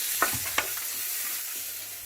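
Spices and ingredients frying in hot oil for Karnataka-style bassaru, with a steady close sizzle and a couple of sharp stirring scrapes and clinks near the start.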